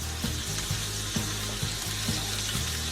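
Boiled brats sizzling on a grill, a steady close hiss broken by a regular low thumping pulse roughly every half second, with no one talking.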